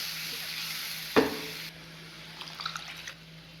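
A single clank of a spoon against a pan, followed by soft stirring and faint bubbling as a thick stingray curry with tamarind and masala is mixed.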